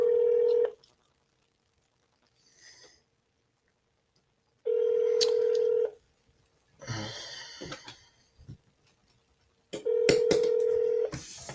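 Telephone line tones from a call to the Canadian Space Agency: three loud, steady tone bursts about a second long, separated by quiet gaps and a stretch of soft clicks and rustling handset noise.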